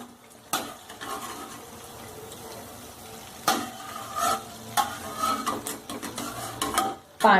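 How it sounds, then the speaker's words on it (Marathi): Besan kapnya, traditional Ashadh gram-flour sweets made with jaggery, frying in hot oil with a soft continuous sizzle, broken by several sharp scrapes and clinks of a spoon or slotted ladle against the pan. "पण ह्या छान तळल्या जातात"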